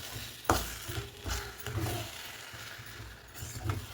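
Kharabath with coriander is stirred in a pan: soft scraping strokes of a spoon recur every second or so over a faint sizzle, quiet and close.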